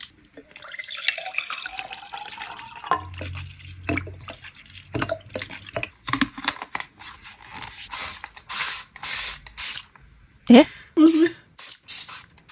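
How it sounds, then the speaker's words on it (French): A spray bottle filled with makeup remover, bought online, mists close by in a series of short, sharp bursts near the end, after a stretch of handling clicks and rustling. "il faut prendre un spray comme ça. Je l'ai pris sur Amazon. Tu mets ton démaquillant"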